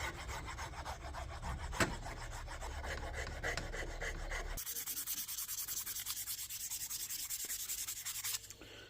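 A file or sandpaper rasps steadily back and forth against a wooden knife handle, a close, continuous scraping that shifts to a thinner, brighter texture partway through.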